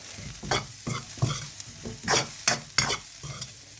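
Garlic, galangal and lemongrass stir-fried in a hot pan for jaew pla ra, with steady sizzling broken by repeated loud scraping strokes of a spatula, close up and with no talking.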